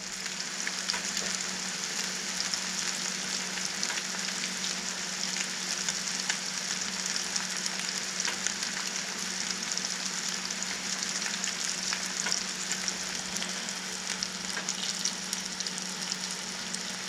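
Flounder frying in peanut oil in a square cast iron skillet, a continuous dense crackling sizzle that holds steady and fairly close throughout, with no voices.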